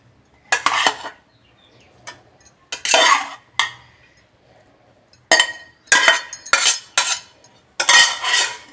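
Cooked rice being mixed into capsicum lemon rice masala in a pan, with bursts of metal spoon scraping and clinking against the cookware, separated by short quiet pauses.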